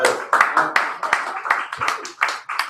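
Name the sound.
audience clapping and applauding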